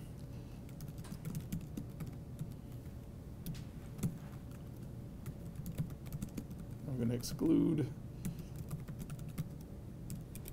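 Computer keyboard keys clatter in quick, light taps, fairly faint and close, with a brief word spoken partway through and a louder rustle near the end.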